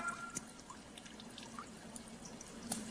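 Water from a Kelvin water dropper falls in a soft, continuous trickle with faint scattered drips, quiet and steady throughout with no talking.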